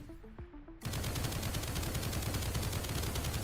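Rapid automatic gunfire in the game Project Onyx, a dense sustained burst that starts abruptly after a few faint tones and continues loud and close without pause, no voices.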